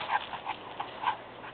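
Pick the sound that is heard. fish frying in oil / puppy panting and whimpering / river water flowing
puppy panting and whimpering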